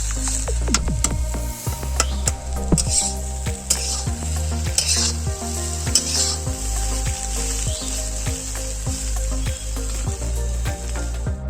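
Moringa drumsticks and thick-cut potatoes fry with spices in a pan, a constant close sizzle punctuated by regular clacks and scrapes of a utensil stirring throughout.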